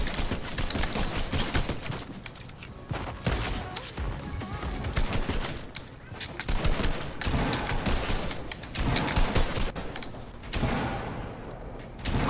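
Rapid bursts of gunfire from the Fortnite video game play continuously and loudly, with dense overlapping shots and thumps, and no talk over them.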